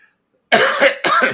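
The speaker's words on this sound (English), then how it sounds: "Excuse my coughing" Two close, harsh coughs in quick succession from one person, each a burst of raspy noise.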